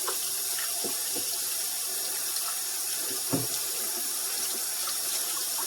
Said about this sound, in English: You're going to get your water hot.